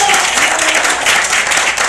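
A church congregation at a Sunday service claps together, a loud, steady burst of applause filling the room for a couple of seconds.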